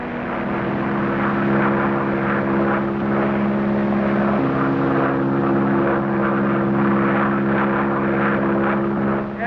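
A 1930s propeller airplane flies overhead, its steady engine drone loud and continuous with a constant low harmonic hum that swells slightly and holds throughout, no voices present.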